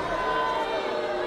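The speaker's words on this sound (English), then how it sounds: "This crowd, letting Krissy Vaine, let her know what they think about her here" Wrestling arena crowd at a Women Of Wrestling match reacting to Krissy Vaine, a dense sustained roar of voices filling the hall, steady and loud throughout.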